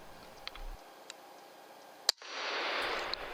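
An air rifle shot at a rat during pest control: one sharp, near crack in a quiet setting, then a steady hiss or rush that follows and lasts several seconds.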